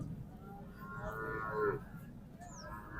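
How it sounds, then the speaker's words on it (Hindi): Cattle low at a busy livestock market, with a few drawn-out moos over a constant murmur of crowd noise, and a faint chirp near the end. "ये है मवेशी मंडी"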